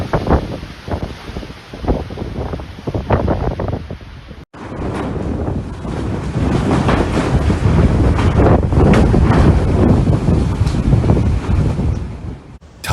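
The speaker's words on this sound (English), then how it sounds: "Typhoon Mawar rips through Guam with 140-mile-per-hour winds" Typhoon Mawar's 140-mile-per-hour winds in Guam roar as loud, continuous gusts buffeting the microphone, with a sharp break partway through and then an even heavier, sustained blast, with no talk.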